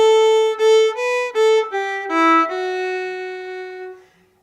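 A short fiddle phrase of quick bowed notes, starting on an up bow, that steps down and settles on a long sustained tone, played alone and close.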